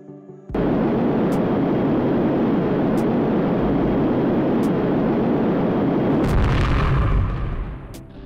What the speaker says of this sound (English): Yep, actual explosion and parts flying in different directions.